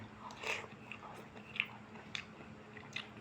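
Someone chews a Thai meat and vegetable dish from the market, mixed with fat. Soft, close crunching bites and wet mastication come in an irregular rhythm over a faint background.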